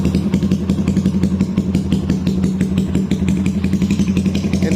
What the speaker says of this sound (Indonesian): Ini untuk suara idle-nya di motor Scorpio gua ya.